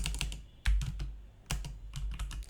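Someone types code on a computer keyboard, producing close, crisp clusters of key clicks with short pauses and a few louder heavier strokes, and no voices.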